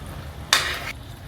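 Chicken being mixed with yogurt and cumin powder in a bowl, one brief wet stirring squelch in a quiet kitchen.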